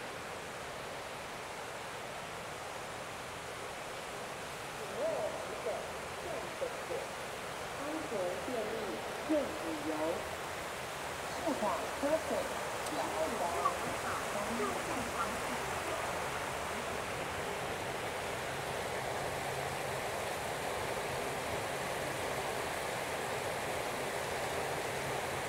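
Waterfall in Kaohsiung, Taiwan, heard as a steady, fairly soft rush of falling water filling the whole scene, with faint scattered sounds rising briefly over it partway through.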